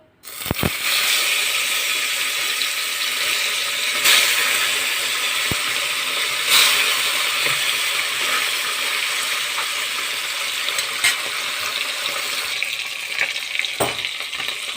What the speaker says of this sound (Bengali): তেল বেশ ভালোভাবে গরম হয়ে এসছে আমি মাছগুলো আস্তে আস্তে ছেড়ে দিচ্ছি